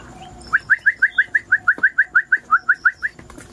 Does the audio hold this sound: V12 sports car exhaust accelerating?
no